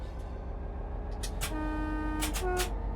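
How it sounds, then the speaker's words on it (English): Softer horn of a low-emission Class 66 locomotive in Train Simulator Classic: several short horn toots over a low engine hum, the last pair sounding more tonal and sustained, fairly quiet and clear of talk. "they have a different horn as well, so a bit more of a softer horn"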